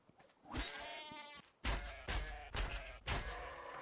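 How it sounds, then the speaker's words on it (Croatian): Sheep in the video game ARK: Survival Evolved bleat loudly and near, first one longer bleat and then a run of harsh bleats mixed with thuds. "Video sam negdje ovcu."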